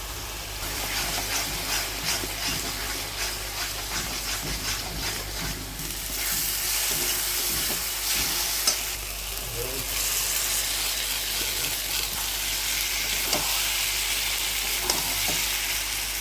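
Steady sizzling of a spice paste of chilli paste and turmeric frying in a hot pan, with occasional stirring scrapes, close and continuous throughout.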